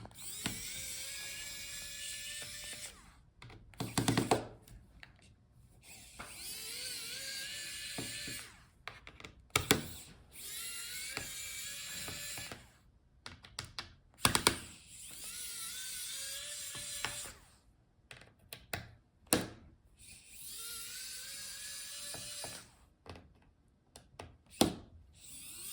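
Small electric screwdriver backing out the bottom screws of a Dell Latitude 7440 laptop, repeated short high whirring runs that rise in pitch, separated by clicks and handling knocks.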